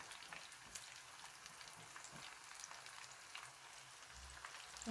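Spicy KFC-style chicken nuggets frying in hot oil, a steady soft crackling sizzle with scattered pops, quiet and continuous.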